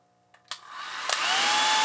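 A hair dryer in an off-grid solar tiny home clicks on, then its motor and fan spin up into a loud, steady rushing whoosh drawing 13 amps. No speech.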